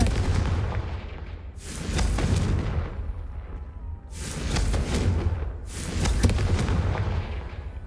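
Confringo fire blast spell cast in Hogwarts Legacy on PS5, heard as repeated loud, booming explosive bursts that swell and fade in waves, with roaring rumble between blasts and no talk.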